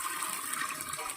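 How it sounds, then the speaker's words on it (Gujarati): Water is poured into a heated clay pot over a wood-fired stove for boiling peanuts, a close, steady rushing pour with no speech. "પાણી રેડી દે છે મોમો અંદર."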